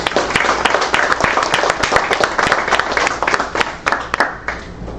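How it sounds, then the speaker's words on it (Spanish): An audience at an electronics and automation congress gives loud, sustained applause with sharp individual claps standing out, continuing evenly for the full five seconds. "Un fuerte aplauso, por favor."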